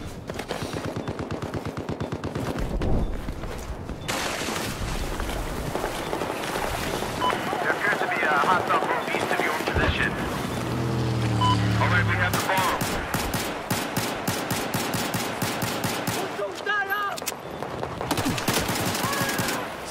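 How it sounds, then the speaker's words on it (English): Sustained machine gun fire in Battlefield 4 multiplayer, loud rapid bursts layered with other gunshots and explosions, dense and continuous with a voice talking over the battle. "There appears to be an enemy machine gunner east of your position."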